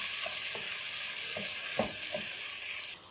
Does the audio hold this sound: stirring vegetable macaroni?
yes